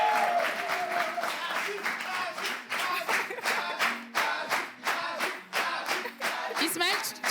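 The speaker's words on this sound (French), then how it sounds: "sous les acclamations du public" Studio audience on a French TV talk show claps and cheers as a film actor is welcomed on stage, dense applause with sharp claps throughout and a host's voice heard over it.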